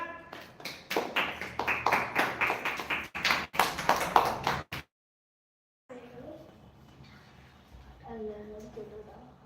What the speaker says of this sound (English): Now clap for her.